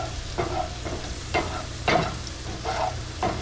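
Sweet potatoes sizzle in a frying pan as a utensil stirs them, making about six distinct scraping strokes at an uneven pace over a continuous soft crackle.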